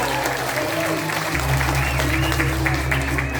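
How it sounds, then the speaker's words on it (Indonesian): Audience applause at a Balinese Drama Gong comedy performance at the PKB 2024 arts festival in Denpasar, a steady wash of clapping under a sustained low hum, with voices mixed into the noise. "tepuk tangan"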